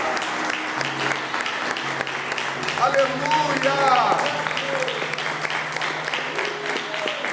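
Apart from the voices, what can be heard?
congregation applause in church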